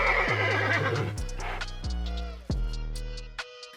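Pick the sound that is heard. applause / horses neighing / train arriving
horses neighing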